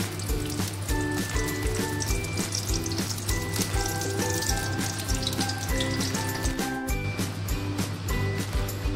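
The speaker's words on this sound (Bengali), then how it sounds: "এই যে ফ্রাই প্যানে সর্ষের তেল দিলাম" Mustard oil heats and sizzles in a frying pan for papaya dhoka, a steady crackling hiss running continuously with a low background hum, close and without talk.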